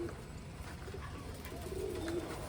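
Pigeons perched outside a loft give low, soft coos, a couple of drawn-out calls standing out over a faint steady background hum.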